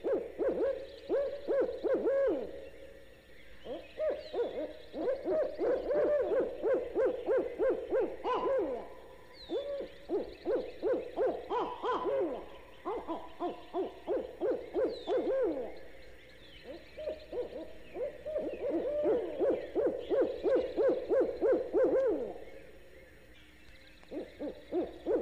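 Owls hooting in repeated rhythmic bursts at daybreak in Florida, a loud chorus of series calls rising and falling across the clip, with faint songbirds waking in the background.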